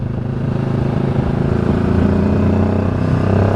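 A 2025 QJ Motor SRT 700 SX motorcycle accelerates with a loud, close, steady engine drone that builds slightly in intensity. No one speaks.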